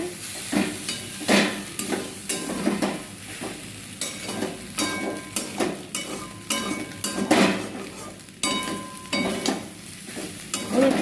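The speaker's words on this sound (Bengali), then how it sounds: "সস দিয়ে দিয়েছি পাস্তা মশলা দিয়ে দিয়েছি নাড়াচাড়া করে" A spoon stirs pasta coated in sauce and pasta masala in a hot pan, with repeated scraping strokes over a soft sizzle, close and fairly loud, keeping an uneven rhythm.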